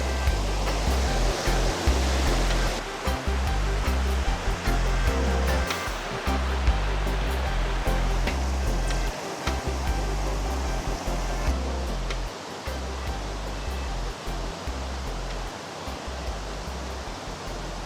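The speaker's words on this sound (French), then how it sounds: "Il y a un bruit monstre à cause de l'eau." Loud, continuous rush of clear mountain water at the Arche de Ponadieu, a broadband roar that fills the whole clip without letup and with no voices.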